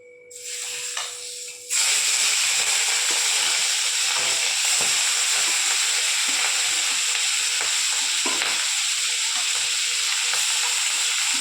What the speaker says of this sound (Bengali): এবার তেলটা গরম হয়ে গিয়েছে, এবার চিংড়ি মাছগুলো ভেজে নেওয়া যাক।